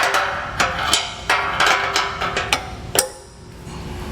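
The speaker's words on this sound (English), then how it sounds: "we're going to go ahead and use a pry bar here, and we'll just get this isolator pried off" A pry bar working a rubber isolator off the frame of a 2021 Chevrolet Equinox during a trailer hitch install: a series of sharp metallic clicks and knocks at an irregular pace, close up, then a quieter pause.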